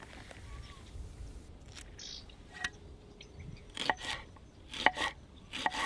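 A knife roughly chops a soft, fresh onion on a board, giving a series of sharp, quiet cuts that grow more frequent toward the end, with faint room noise beneath.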